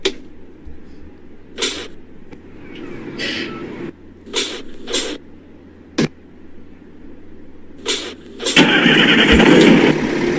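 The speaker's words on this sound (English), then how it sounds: "To start up the bus, you can press Z, and then press Z once more to start the engine." A bus engine in the Roblox game starting up, with a rising mechanical crank and turnover that ends in a louder, steady rumble, broken by several sharp clicks and short bursts.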